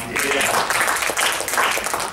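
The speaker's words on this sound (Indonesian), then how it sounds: "Woi, tepuk tangan dulu buat yang main." A church congregation claps for the musicians after a sermon, a continuous burst of applause with voices mixed in throughout.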